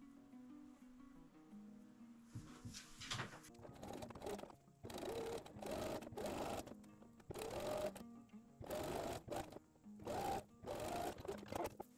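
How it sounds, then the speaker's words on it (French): A sewing machine runs zigzag stitches along a slightly stretchy dress fabric, starting after a quiet moment and whirring in several close, steady bursts separated by short pauses. "Tu pourras ensuite venir assembler tout le long, au point droit ou point zigzag."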